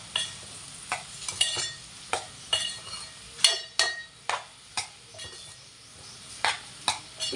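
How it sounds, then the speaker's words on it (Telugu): A spoon stirs cabbage curry with chana dal in a hot pan. Quick scraping, clinking strokes come about every half second over a low, steady sizzle, close and clear. "మొత్తం కలిసేలాగా తిప్పేసుకోండి"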